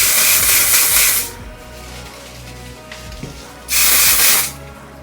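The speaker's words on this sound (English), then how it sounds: "I'm gonna go ahead and spray it with hairspray." Hairspray is sprayed onto freshly curled hair in two loud, close bursts of hissing aerosol, the first lasting over a second, then a pause before a second shorter spray.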